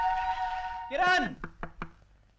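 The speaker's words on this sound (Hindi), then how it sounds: "ए किरण, हरी अप! जल्दी दरवाजा खोलो, जल्दी" A voice calls out, then three sharp knocks land on a door in quick, even succession, loud and close.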